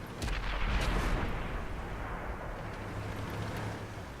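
Tank cannon fire in an online tank battle game, with a heavy boom near the start followed by a rumbling, muffled battlefield roar that lingers at moderate loudness.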